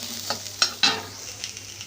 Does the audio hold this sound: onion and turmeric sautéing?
yes